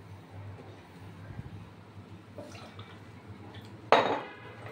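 Water is poured into a pan of semolina upma, arriving as a sudden close splash and hiss near the end after a stretch of quiet kitchen clatter, then trailing off.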